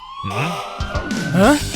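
A short, loud wailing fire engine siren in a cartoon that rises and falls in pitch, layered with a steady high tone, lasting under two seconds.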